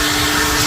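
A coin-operated car vacuum at a gas station roars steadily with broadband suction noise and a constant hum, loud and close throughout the short moment with no talk.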